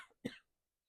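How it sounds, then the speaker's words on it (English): A single short, close cough from a person, with a softer breathy sound just before it and silence afterward. "Excuse me, I'm going to cough."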